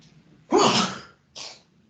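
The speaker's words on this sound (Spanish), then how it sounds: "Ahí va a estornudar." A sneeze from a person with rhinitis bursts out loud and close, followed a moment later by a shorter, softer second sneeze, with no talking.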